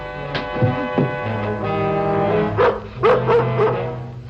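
A dog barks and yips several times in short, close, loud bursts, with whimpering tones between them, over a steady humming background in an older television drama scene.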